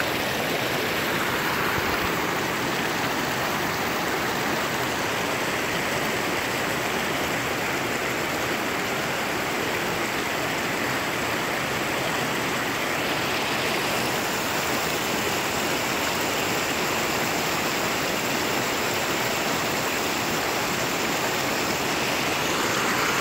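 Steady, continuous rushing of a flowing creek, close by and even in level, with no voices.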